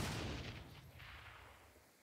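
Burst of gunfire at a shooting range in the video game Saints Row, a loud, dense crackle of rapid shots at the start that fades into a rumbling tail over two seconds.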